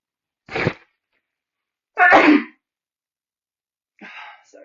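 A single person lets out a few short bursts, the middle one loudest, separated by silence, fitting sneezes or sneeze-like exhalations heard close up.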